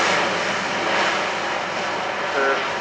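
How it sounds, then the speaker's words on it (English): An Airbus A400M four-engine turboprop airlifter with Europrop TP400 engines flies at the RIAT 2017 airshow at Fairford. It makes a loud, steady, close engine roar for a few seconds. "It's a 4 turboprop airlifter, 4 Europrop International TP400 engines."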